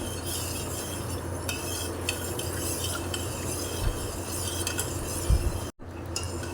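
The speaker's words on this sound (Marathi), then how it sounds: "साखर वितळेपर्यंत आपण हे ढवळत राहूया" A spoon stirring milk and sugar in a pot for kharvas, a steady low swish with occasional faint clinks of metal against the vessel and a short gap near the end, close and quiet with no speech.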